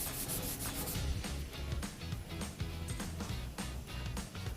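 Steady back-and-forth rubbing of 220 grit sandpaper by hand on car E-coat, a rhythmic scratchy hiss at close range, fairly faint.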